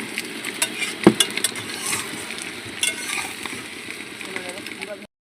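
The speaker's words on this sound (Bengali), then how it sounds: "এই সেই ডিম দেখে নাও ভাজা হচ্ছে।" Boiled eggs sizzle in a pan being cooked inside a vehicle, a soft, steady fry with stirring scrapes and a sharp metallic clink near the start.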